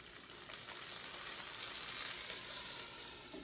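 Salmon croquette patties fry in oil in a pan, giving a steady, fairly loud sizzle and crackle that holds evenly throughout with no talking.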